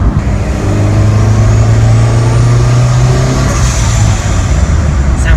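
Car engine pulling hard under acceleration after a 525cc fuel injector and boost controller upgrade, a loud, steady low drone that holds strong and rises slightly in pitch, with a whine building toward the end and no talk.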